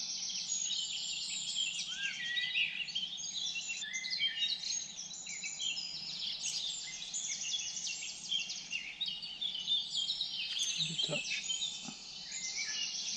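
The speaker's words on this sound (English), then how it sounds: "everything's green and flourishing, and the birds are chirping." Dense, continuous chirping of many birds fills a green riverside setting on the River Wye, bright and lively throughout the scene over a low, steady background hum.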